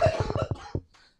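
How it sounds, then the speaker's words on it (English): A person coughs in a quick burst of about six rough, close coughs, followed by a softer cough and a brief fade. "I saw the stupid cough."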